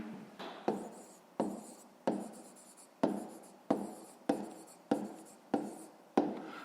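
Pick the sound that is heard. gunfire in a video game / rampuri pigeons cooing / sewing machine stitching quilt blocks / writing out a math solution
writing out a math solution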